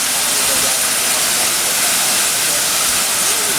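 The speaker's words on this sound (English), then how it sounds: "Just letting off steam and making a hell of a din." A steam locomotive standing at a railway station vents steam in a loud, continuous, close hiss that holds steady without a break.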